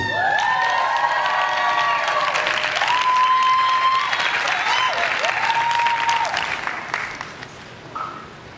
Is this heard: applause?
yes